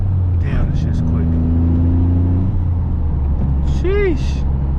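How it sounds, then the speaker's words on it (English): A heavily modified Toyota GR Corolla on a night drive, a turbo whine and rumbling engine drone heard from inside the car, with a brief rising and falling whoosh near the end and a voice speaking over it. "You hear the turbo spooling?"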